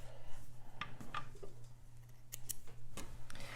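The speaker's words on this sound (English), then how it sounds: "clip your threads" Scissors snipping sewing threads after back stitching on a sewing machine, a few short crisp snips spaced apart over a low steady hum, close and quiet.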